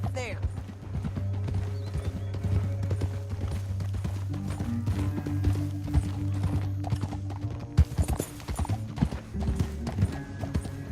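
Rhythmic clip-clop of horse hooves in Red Dead Redemption 2 trots along steadily under a low droning background, with voices speaking over the hoofbeats.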